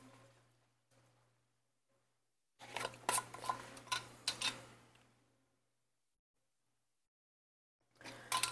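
Short bursts of clattering dishes and cutlery in a kitchen while frying taco and tostada shells, a busy cluster of clinks and knocks over a low steady hum, with quiet gaps between.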